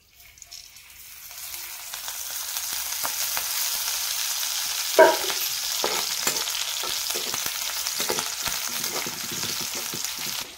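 Green chillies fry in hot oil in a pan for kande pohe: a steady, close sizzle with light spatula clinks and one sharper knock partway through.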